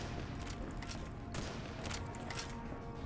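Rapid gunfire crackles at a shooting range in the video game Fallout: New Vegas, a dense, continuous burst of shots with sharp repeated reports over a busy, noisy background, steady and loud throughout.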